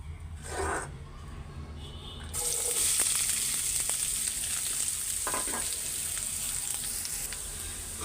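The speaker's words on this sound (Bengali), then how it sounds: "আরও তেল দিয়ে আমি এখন করলা ভাজিটা করে নিব" Bitter gourd pieces fry in plenty of oil, quiet at first and then bursting into a loud, sustained sizzle with occasional stirring scrapes, close and with no talking.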